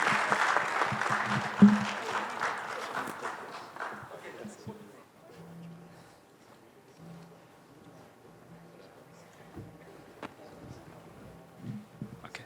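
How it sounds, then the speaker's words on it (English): Applause for a departing panelist at an Indonesian energy transition panel discussion fills the opening seconds before fading out, after which a voice carries on speaking over a quiet room. "I think we should give him an applause"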